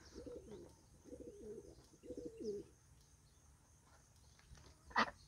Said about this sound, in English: But that is a male pigeon that makes that type of noise.